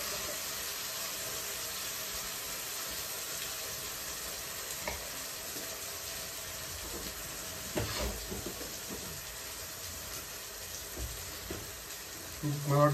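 Atta dough deep-frying in hot oil gives a steady, close bubbling hiss that runs the whole time, with a few louder stirring clatters and pops scattered through the later part.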